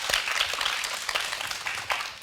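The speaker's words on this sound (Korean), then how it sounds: "큰 박수 보내주십시오." Studio audience applause welcoming an education consultant guest on a Korean education talk show, a faint, brief burst of scattered clapping with no voices.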